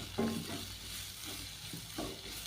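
Garam masala and coriander powder are stirred into a sizzling onion-paste broad bean curry: a quiet, steady hiss of frying with a few soft scraping strokes, close and without speech.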